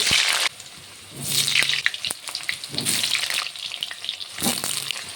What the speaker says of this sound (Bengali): তেলটি গরম হয়ে গেছে, প্রথমে আলুটাকে ভেজে নেব